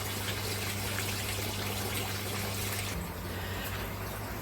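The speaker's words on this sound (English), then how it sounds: "I'm getting wet with this water dripping down off the roof here." Water dripping and trickling off a roof beside an aquaponics setup, a dense continuous splatter and patter close by, with a steady low hum underneath.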